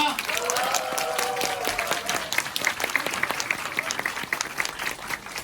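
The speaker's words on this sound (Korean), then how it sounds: "큰 박수 부탁드리겠습니다" Audience applause welcoming a speaker at a business recruiting lecture: brief music fades out at the start, then many people clap in a lively burst that builds into crisp, distinct claps, close and moderately loud.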